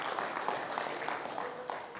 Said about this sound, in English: Give her a round of applause for me, please.